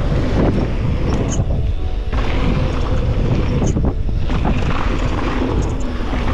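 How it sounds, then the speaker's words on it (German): Strong wind buffets the microphone at a bike park in Willingen, Germany, with loud, roaring gusts that rise and dip, a constant rough rumble with no voices. "Boah, das ist windig."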